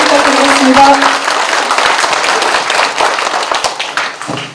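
A crowd applauds at a county mayoral candidates' debate held by a party branch in Sabuk, Jeongseon, loud and dense at first and thinning toward the end, with a brief murmur of voices underneath.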